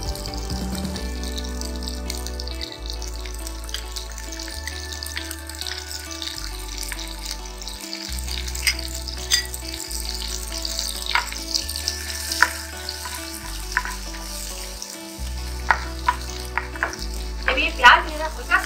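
Chopped onions frying in melted butter for a white sauce pasta produce a steady sizzle with scattered stirring clicks, set under a prominent, pulsing background music track.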